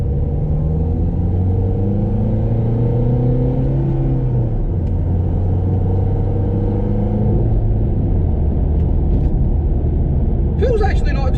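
Modified stage 1 Ford Fiesta Zetec S diesel pulling in second gear at about 20 mph, a steady low engine drone with rising and falling harmonics, heard from inside the cabin, ending with a brief rustle.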